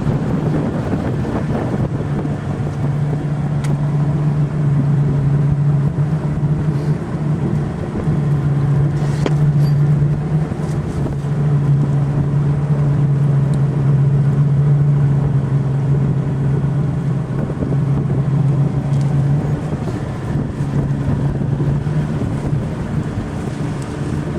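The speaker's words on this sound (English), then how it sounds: "we'll just run the big engine right up in here." The big engine of a fishing boat runs at a steady low hum for the whole stretch, with wind buffeting the microphone and water noise around it. No one speaks.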